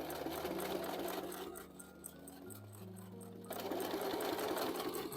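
A sewing machine stitches a curved seam on a fabric bag, 1.5 cm from the edge, running in a steady, close-up whir that slows briefly in the middle before picking back up.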